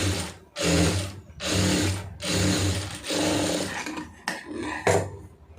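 Sewing machine stitching a quarter-inch seam along a blouse lining, running in several loud bursts separated by short pauses, with no talking.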